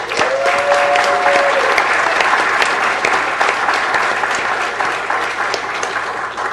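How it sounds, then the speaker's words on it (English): Sustained applause from an audience at a city council meeting, steady and dense clapping that slowly tapers slightly near the end. "Let's give them a big round of applause."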